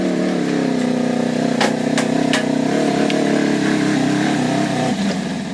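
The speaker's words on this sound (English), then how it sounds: "we got the Polaris RZR XP, the normal XP 1000 up on the dyno" A Polaris RZR XP 1000 engine revs on a dyno. It sounds as a loud, steady mechanical drone with a few sharp transients, then eases off near the end.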